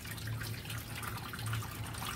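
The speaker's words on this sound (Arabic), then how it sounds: "هنحط في الصينيه طبعا ميه" Warm water pours steadily into a roasting tray for oven-roasted chicken, a soft continuous splashing and trickling stream, close but quiet, with no talk.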